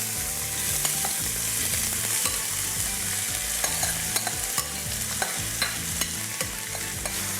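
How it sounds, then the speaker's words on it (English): Onions fry in sunflower oil with a loud, close, constant sizzle, punctuated by repeated scraping stirs and light taps against the pan. "I'm going to add oil. I'm using sunflower oil. I'm going to pop in my onions."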